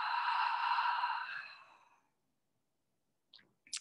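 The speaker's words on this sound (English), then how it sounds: "And exhale, let it go." A slow, breathy exhale through the mouth during a guided stretch and relaxation session, soft and close, fading out over about two seconds, followed by silence and a couple of faint small sounds.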